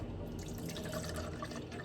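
Almond milk poured from a freshly opened bottle into a cup makes a steady, quiet liquid rush with light splashing throughout, with no talking.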